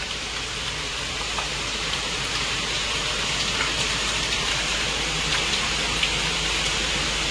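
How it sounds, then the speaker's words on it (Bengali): Heavy rain pours steadily and loudly for the whole stretch, a dense, unbroken hiss of drops hitting surfaces with no voices over it. "কি জোর বৃষ্টি পড়ছে"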